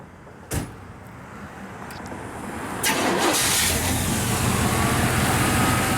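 A 1956 Chevrolet Bel Air two-door post is started: a sharp click, then the starter cranks briefly before the engine catches and settles into a steady, loud idle close by.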